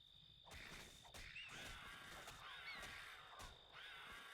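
Crows caw repeatedly in the Titan Quest video game, several harsh calls spread across a steady outdoor ambience with croaking and insect-like sounds beneath.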